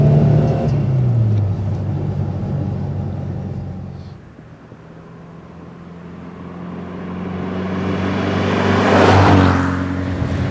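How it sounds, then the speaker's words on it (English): Rover P6 2000TC engine pulling through the gears, heard from the cabin: a steady rising engine note, a dip as a gear change cuts the sound around the midpoint, then another long climb building to a louder, strained peak near the end. "Just another pull through the gears."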